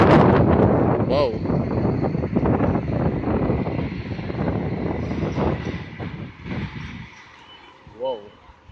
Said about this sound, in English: So much wind. And curse you, wind.